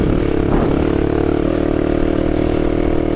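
Motorcycle ridden over rough dirt terrain, a constant, loud engine drone with rattling and scraping clatter from the bike, close to the rider and with no voices.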